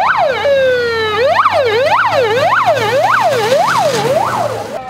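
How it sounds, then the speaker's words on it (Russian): A loud wailing siren cycles up and down in rapid repeated sweeps, starting with a rising tone, during a fire drill at a police station, close and steady with no talk. "По сирене началась срочная эвакуация людей, а также важных служебных документов."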